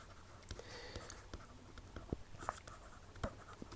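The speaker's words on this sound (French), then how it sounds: "j'écris rapidement" A pen scratches quickly across paper in short, faint strokes with small taps, close by in a quiet room.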